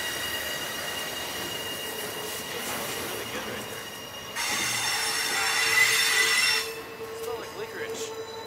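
Freight train wheels squeal in a long, high-pitched metallic whine over a rumbling rail drone, growing louder and harsher partway through before easing.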